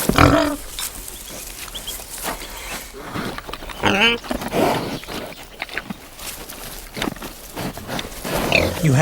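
A truffle-hunting pig snuffles and grunts close up while digging, in irregular bursts of sniffing and rooting with rustling between them, some louder snorts scattered throughout.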